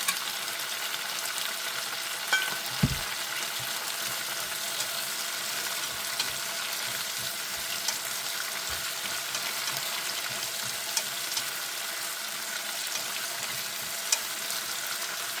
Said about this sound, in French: J'adore les asperges vertes sautées.